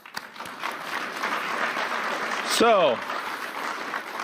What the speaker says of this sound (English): I think the president really should get an applause for that.